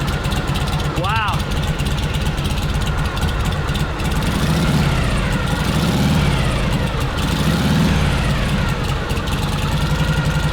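A kick-started motorcycle idles close by, its exhaust pipe giving a loud, steady, low-pitched throb throughout, with someone speaking over the running engine.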